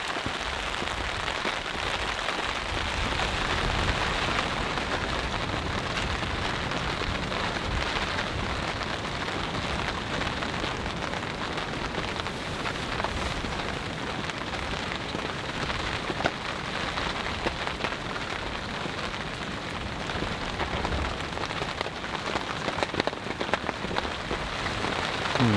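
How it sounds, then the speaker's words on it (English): Heavy rain pounds a cheap tent in a windy overnight storm, a dense, loud, unbroken drumming roar that holds steady throughout, with faint thunder underneath and no talking. "pouring the rain, super windy, a little cold"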